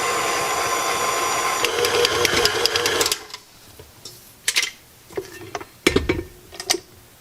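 A milk-and-dough mixture for Fleischkuechle stirred in a bowl: a steady mechanical whir gives way to several separate scraping, clinking strokes, close and fairly loud with no talking.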